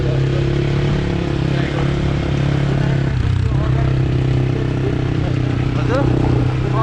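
A motorcycle on the move gives a steady mid-pitched engine drone with rushing road and wind noise, continuous throughout and fairly loud.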